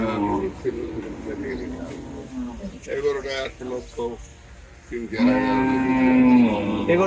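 Cattle low and moo at the Gabtoli cattle market, with a long, loud moo near the end of the clip and a few shorter calls before it, set among ongoing conversation between people.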